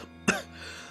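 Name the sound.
cough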